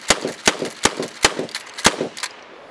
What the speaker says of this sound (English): You hold the trigger down, and every time you cock it back and push it forward, it fires.